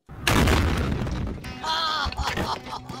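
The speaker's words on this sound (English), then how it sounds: "gonna blow this car up for realsies and check out how that sounds" A car blown apart by 2.2 pounds of C4 explosive gives one massive, close boom that hits all at once and then rumbles and crackles as debris settles, trailing into a clattering tail.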